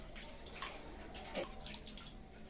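Food rinsed under running water in a home kitchen, a steady wash of flowing and splashing water with a few small drips and knocks, close and even throughout.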